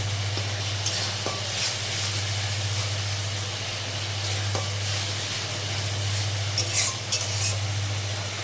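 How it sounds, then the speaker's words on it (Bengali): Mung dal masala frying in oil while being stirred, with a soft steady sizzle and scattered scraping stir strokes over a constant low hum, no talking. "এরপর আমি কষিয়ে নেব, তেলটা ছাড়ার অপেক্ষা।"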